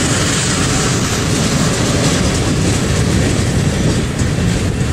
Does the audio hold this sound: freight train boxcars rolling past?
yes